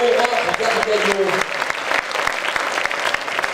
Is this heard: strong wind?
no